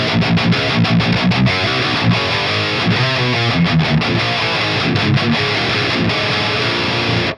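Electric guitar played through a Fortin Kali preamp with an aggressive setting, giving a loud, thick distorted tone in fast chugging riffs with sharp stops and palm-muted rhythms that cut off abruptly at the end.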